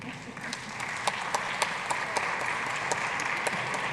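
Conference attendees at an African food systems nutrition event applaud a speaker, a steady, moderately distant wash of clapping with a few sharper individual claps standing out.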